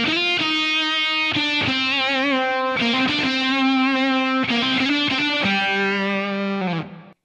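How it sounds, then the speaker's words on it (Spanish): Thick, heavily saturated fuzz-distorted electric guitar riff, a loud, sustained chord-driven line with dense buzzing harmonics, played continuously for several seconds before cutting off. "el fuzz, que es una especie como de overdrive o distorsión, pero muy, muy, muy pastosa"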